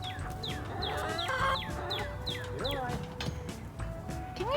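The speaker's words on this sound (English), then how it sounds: "Come here, chickens." Chickens clucking in a coop, repeated short calls from several birds close by, with a person speaking over them.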